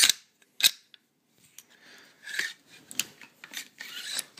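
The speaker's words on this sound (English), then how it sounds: "you pull it up, push it down, and push the bolt carrier in, and you could hear all the ratchets" The forward assist and bolt carrier of an Inokatsu M4A1 gas blowback airsoft rifle with RA-Tech internals ratchet and rasp, making several short close clicking scrapes, then a quicker run of grating ratchets.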